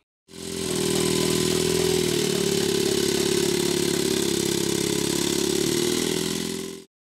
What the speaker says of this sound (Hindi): ये मोटरसाइकिल 70 सीसी इंजन, 3 पहियों और 2 सिलेंडर्स पर मुश्तमिल है।